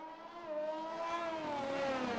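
A race car engine in a racing video game drones at high revs with a wavering, glitchy pitch, steady and fairly faint, with no talk.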